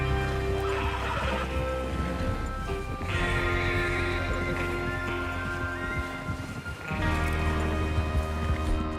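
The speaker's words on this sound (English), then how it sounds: "Get your horses ready." Horses whinny and neigh while hooves clip-clop in Red Dead Redemption 2 ahead of a train robbery, several loud neighs over a steady bed of rain, music and gang noise.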